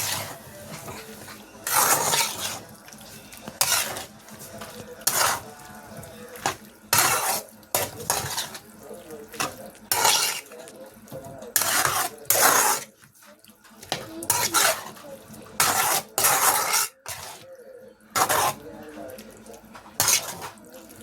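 Cooked beef and onions are stirred in a pan, with loud, close metal scraping and clanking strokes in repeated bursts, separated by brief pauses, over a low sizzle.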